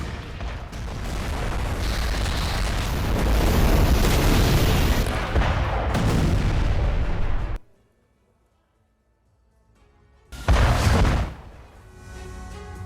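Loud, continuous booming blasts from a Russian attack on Ukraine in news footage, a long dense roar that cuts to near silence and then returns with another heavy burst.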